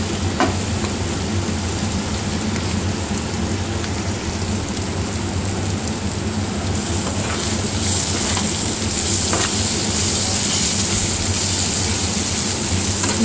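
Chopped ginger and tomato fry in a pan for a butter paneer dish with a continuous loud sizzle and hiss, broken now and then by stirring scrapes.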